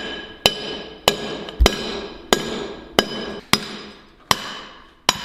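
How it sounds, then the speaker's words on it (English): Eight sharp metallic hammer blows strike a mild steel drift to drive the top die key out of a 300 lb power hammer, each ringing briefly and decaying, spaced at a steady, unhurried pace with no talking. "What we're gonna do is use that to drive out the key for the top die."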